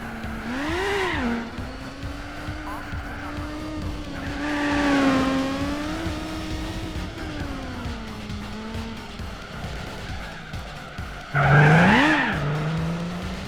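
A Cadillac Cien race car circles a track in Gran Turismo 4, its engine note rising and falling through gear changes, with tire squeal and a sharp loud rev surge near the end; steady, close, no talking.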